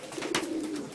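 A racing pigeon gives a soft, low coo close by, a single murmuring call with a brief flutter of rustling over it.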